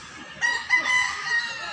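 A rooster crows nearby in a drawn-out call over steady outdoor background noise; the bird is a gamefowl of the sweater breed.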